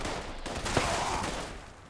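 A shotgun with an explosive effect fires in the video game Fallout 76 as a short cluster of muffled, booming blasts with a rumbling tail, fairly faint and heard alone.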